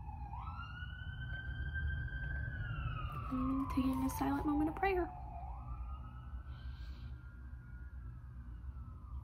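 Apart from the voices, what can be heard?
emergency vehicle sirens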